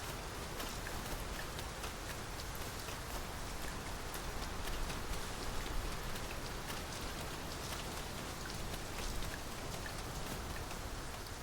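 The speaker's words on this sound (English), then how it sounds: "Tis raining most heavily." Heavy rain pours steadily in the video game Dragon's Dogma II, a dense even hiss of countless drops with no pauses or talk.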